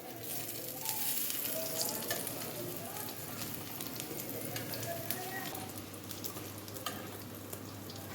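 Crispy eggplant fritters fry in hot oil with a continuous, moderately quiet sizzle and crackle, with occasional faint sounds of turning the pieces.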